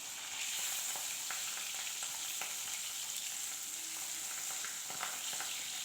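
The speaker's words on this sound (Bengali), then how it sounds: "আর বাকি মাছগুলোও ভাজা করে নেব কড়া করে" Pabda fish fry in hot oil in a pan, a steady, fairly close sizzle with crackling pops and occasional stirring that carries on throughout without talk.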